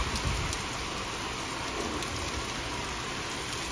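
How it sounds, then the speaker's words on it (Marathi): Steady rain falls, a dense, even hiss with soft patter throughout, fairly close and uninterrupted. "तरी एकदमच पाऊस आला"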